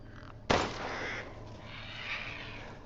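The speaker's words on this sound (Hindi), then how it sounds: "कौवे मारने चाहिए भाई" Crows caw in the video game Resident Evil Village: a sudden loud burst of cawing and flapping noise that trails into a steady mid-level wash, with no talking over it.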